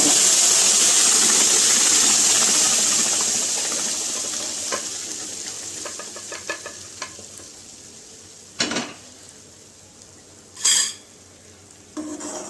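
A hissing, steamy sizzle from a hot pan of lentil curry gradually fades, followed by scattered scraping and a few louder clanks of stirring.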